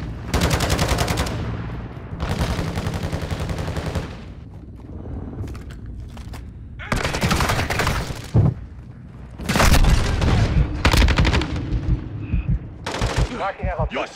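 Loud, sustained automatic gunfire from the Call of Duty video game comes in long bursts with heavy booms between them, close and dense, with voices calling out over the battle.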